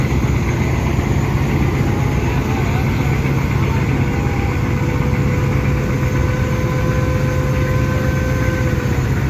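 Passenger launches Karnafuli 12 and Tipu 14 race on a Bangladeshi river, their engines a loud constant low drone with wind and water noise and voices mixed in.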